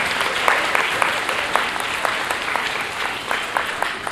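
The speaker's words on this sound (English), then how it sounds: "Give yourselves a round of applause." Parents and audience applaud at a school spring concert, a steady wash of many hands clapping continuously, fairly close, with individual claps popping out of the crowd sound.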